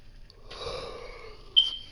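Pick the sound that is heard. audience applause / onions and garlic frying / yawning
yawning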